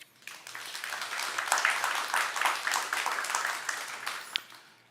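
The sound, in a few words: audience applause for panelists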